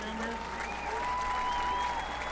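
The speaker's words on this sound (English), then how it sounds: "Let's have a round of applause for all our senior band members." A football stadium crowd applauds the senior band members at a Manvel High School game, a continuous wash of clapping and cheering, with a few faint whistles or tonal sounds drifting over it.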